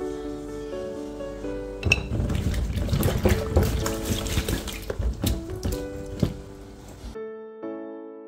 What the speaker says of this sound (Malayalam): കുറച്ച് മഞ്ഞൾപ്പൊടിയൊക്കെ ഇട്ടിട്ട് വെള്ളം ഒഴിച്ചിട്ട് നമുക്കിതൊന്ന് നന്നായിട്ട് കഴുകിയെടുത്തിട്ട്